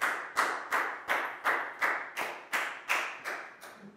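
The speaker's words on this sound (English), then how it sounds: "a big round of applause for Pat." Applause in a primary-school maths classroom, heard as about ten sharp claps in an even, steady rhythm. The claps are fairly loud and close, with no voices.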